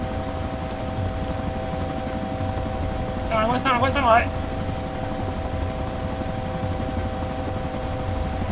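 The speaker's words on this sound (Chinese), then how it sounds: "有一条直升机开始有点奇怪的声音" Steady helicopter drone from the video game DayZ runs continuously, with a brief shouted voice breaking in near the middle.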